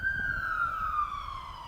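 An emergency vehicle siren wails outside in a single long, steady descending tone, moderately loud over low rumbling background traffic noise.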